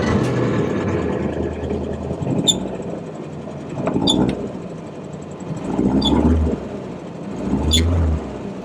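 An Amphicar 770 amphibious convertible fitted with a Triumph engine starts and settles into a low, steady idle, with a few louder surges and clunks along the way.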